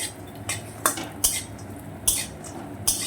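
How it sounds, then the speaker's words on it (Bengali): Lentil bori frying in a wok gives sharp intermittent scrapes and clinks of a spatula against the pan, about six distinct strokes over a soft background sizzle. "বড়িগুলো ভেজে নিচ্ছি আগে"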